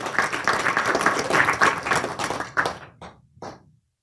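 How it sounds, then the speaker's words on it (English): Applause from a panel discussion audience on African American studies, a dense burst of clapping that thins into a few scattered final claps before stopping. "Let's give her a big round of applause"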